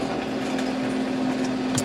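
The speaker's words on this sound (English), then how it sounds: "The trash truck. It's just crazy." A garbage truck idles outside with a loud, steady low hum and constant rumble, unchanging throughout, heard from indoors with no talking.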